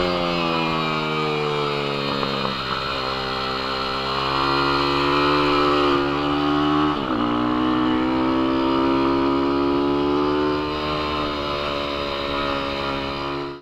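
A Dream Atom 201TS9 pit bike engine revs while being ridden, a loud, buzzing single-cylinder note that climbs and holds steady, dips briefly as the throttle changes, then rises and sustains again.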